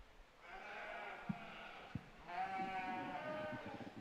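Sheep bleat intermittently in a show ring during an FFA sheep showmanship class at a county fair, wavering calls heard at moderate distance over crowd murmur and a couple of sharp knocks.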